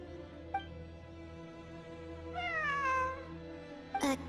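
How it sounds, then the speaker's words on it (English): In the Genshin Impact video game, a cat mews faintly once, then lets out a longer, clearer meow over a soft humming backdrop, and ends with a short, sharp meow. "I'm not hearing things. It really is a cat."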